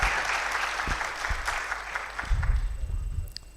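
A crowd at an oil and gas geopolitics forum applauds a dignitary, a sustained roar of many clapping hands with some heavier low thumps, fairly close and loud, tapering slightly at the end without speech.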